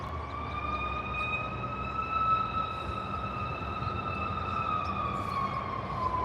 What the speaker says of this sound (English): Here goes an ambulance.